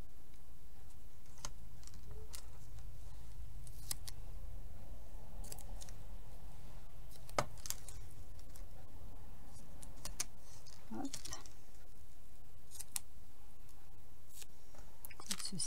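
Scissors snip paper repeatedly at close range, short sharp cuts spaced irregularly over a quiet room hum.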